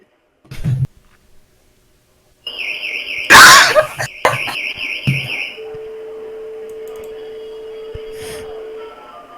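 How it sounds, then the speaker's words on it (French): An elevator alarm in a hotel sounds with warbling high tones, then a steady beeping tone continues, with a short voice and clatter near the start. "L'alarme, elle va ressonner."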